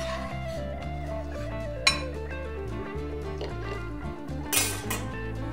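Egg yolks tipped into a pan with mushrooms and oil and stirred, giving a continuous scraping and clinking of a utensil against the pan, close and moderately loud, with a couple of sharper knocks.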